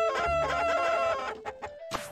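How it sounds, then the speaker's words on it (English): Several chickens in the video game Mogeko Castle cluck and squawk in a steady jumble with a faint musical tone underneath, a few sharper clucks standing out toward the end. "There's a lot of chickens."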